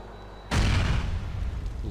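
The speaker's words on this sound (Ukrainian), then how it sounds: "Нормально так бабахнуло." A bomb detonates in the video game GTA IV, a sudden loud boom that cuts in abruptly and trails into a long, rumbling roar of debris and noise.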